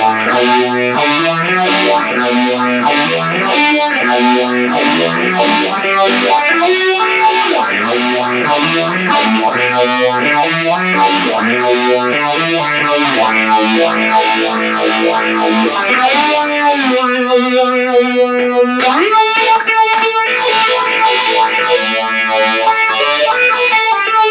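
Distorted electric guitar playing a riff through an MXR Phase 95 phaser pedal, its tone sweeping with a swirling, whooshing effect; loud and continuous, with no voices.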